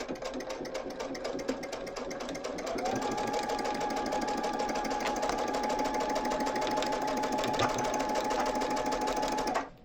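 A sewing machine stitches quilt pieces, running close and steady with a rapid even whir that speeds up a few seconds in, holds a constant pitch, then stops abruptly.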